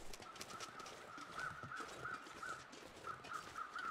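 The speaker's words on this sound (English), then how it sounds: "Well, at least we know what the crows were looking after." Crows caw repeatedly in a snowy survival game world, a steady run of harsh calls spaced about every half second over a hissy wind-like background, fairly clear and mid-distance.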